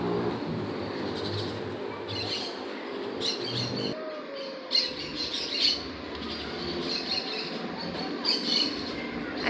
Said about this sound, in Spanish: sí se escuchan varios pajaritos.